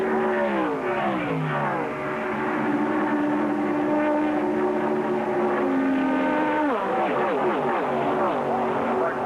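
Stock cars racing at the 1981 Busch Clash, with loud engines droning and shifting pitch as the cars pass close by, a continuous roar across the whole stretch with faint commentary underneath.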